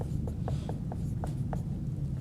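Chalk or marker strokes on a board during a math lecture, a series of short scratchy taps about every quarter second over steady low room hum, close and fairly quiet, with no talking.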